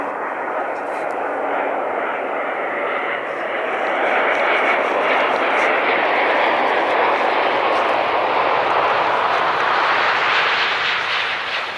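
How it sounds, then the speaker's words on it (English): An Air China Airbus A350 airliner comes in to land at Stockholm Arlanda. Its jet engines give a loud, broad roar that swells as the plane draws closer and stays strong to the end. "I didn't have to wait long until I saw the Air China A350."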